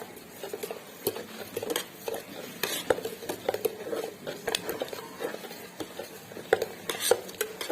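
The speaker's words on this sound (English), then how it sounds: "And add some curry leaves into the kettle. And make it stir well." Curry leaves stirred in oil in a kettle, heard as a busy run of close scraping, tapping and clinking strokes with light sizzling underneath, irregular and continuous with no speech.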